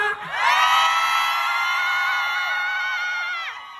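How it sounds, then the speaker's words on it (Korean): A large outdoor festival crowd in Gyeongju screams and cheers in one loud, sustained roar of many high voices that holds steady for several seconds before tapering off near the end. "이렇게 또 소리도 질러주시고"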